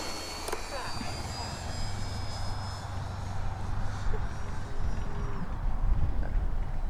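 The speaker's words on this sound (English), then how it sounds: "he's getting his plane started" A Turbo Timber Evolution RC model plane has its electric motor started, giving a steady whirring drone over constant outdoor wind noise, with people talking nearby.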